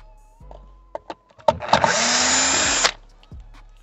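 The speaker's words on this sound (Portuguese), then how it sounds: "Agora é só tirar o parafuso." A screw is removed from an interior panel of a 2014 Fiat Grand Siena Attractive 1.4 during heater radiator replacement. A few sharp clicks lead into a loud, close mechanical whir lasting just over a second, followed by another small knock.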